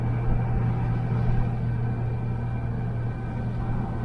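A 1972 Chevy Nova with standard steering driving on the road, heard from inside as a steady low engine rumble and road drone that stays constant throughout.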